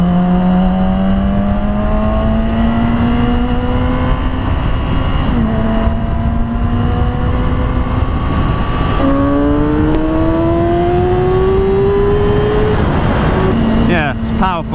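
A loud Yamaha R6 sport motorcycle engine with an MIV slip-on exhaust revs and shifts up through the gears with a raspy, throaty exhaust note, heard up close while riding, with steady wind rush underneath.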